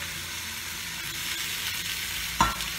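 Potatoes and spices stir-fry in a pan for aloo katla dolma, a soft continuous sizzle with faint scraping, topped by one brief louder clang near the end.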